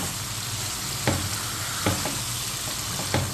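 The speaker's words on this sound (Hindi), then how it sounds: "यहाँ गोश्त को लहसुन अदरक के साथ अच्छे से भूनूंगी।" Meat frying in a pan with garlic and ginger gives a dense, continuous sizzle, broken by a few sharp scraping stirs at intervals, close and steady with no talking.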